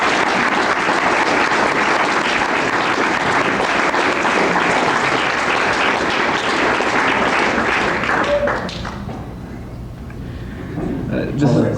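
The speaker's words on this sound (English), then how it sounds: "All that clapping used your time" A mayoral candidate forum audience at the Fairfield, Iowa chamber of commerce breaks into loud, sustained applause. It holds steady for about eight seconds, then drops away to quieter room noise.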